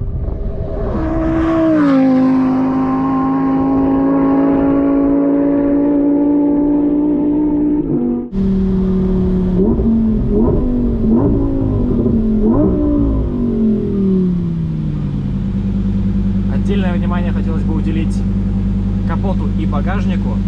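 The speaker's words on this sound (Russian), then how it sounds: "Ну и конечно звук мотора, это вообще что-то с чем-то" A Lamborghini Huracan Evo Spyder engine revs loudly and holds, drops briefly, then surges through rising and falling revs before settling into a deep rumbling idle.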